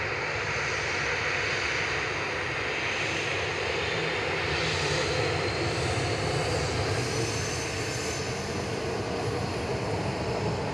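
A TUI Boeing 737-800 takes off from runway 23 left at Manchester Airport with a loud, sustained jet engine roar: a dense, even rush of noise that holds strong throughout without a break.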